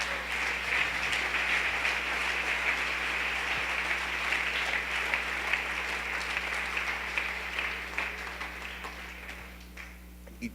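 Church congregation applauding at a Sunday service, sustained dense clapping from a large room over a steady low electrical hum, gradually tapering off toward the end.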